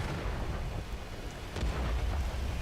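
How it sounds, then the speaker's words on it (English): Artillery fire in the console version of World of Tanks is heard as a low, distant rumbling boom that swells partway through over a steady background roar. "And artillery just said hello."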